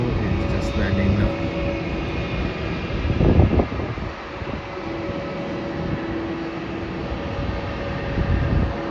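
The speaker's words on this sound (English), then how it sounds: "And the flight from Guangzhou is just landing now." An airliner arriving from Guangzhou lands at Melbourne Airport, a steady broad engine roar heard from a distance with a brief swell midway, while people talk faintly in the background.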